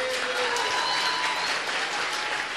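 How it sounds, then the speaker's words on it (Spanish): Audience applause in a television studio, a dense, loud burst of many people clapping with a faint vocal tone and crowd noise mixed in. "Eso merece un aplauso."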